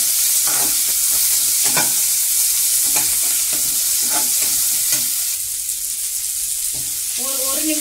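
Onions sautéing in a pan for a quick gravy, a steady loud sizzle with rhythmic stirring scrapes every second or so, with no voices.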